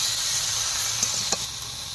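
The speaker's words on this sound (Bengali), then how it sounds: "দিয়ে ভালোভাবে কষিয়ে নেবো" Taro and tangra fish curry sautéing in a pan, giving a steady, close sizzle and hiss of frying with faint stirring clicks throughout.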